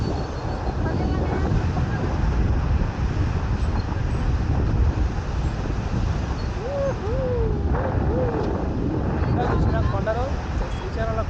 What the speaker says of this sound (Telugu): ఎంత గాలి వస్తుంది.